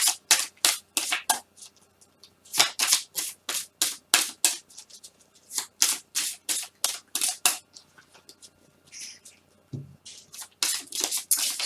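Tarot cards being shuffled by hand during a Pisces reading, a dense run of crisp riffling bursts repeating in quick rhythmic flurries with short pauses between, close and clear with no talking.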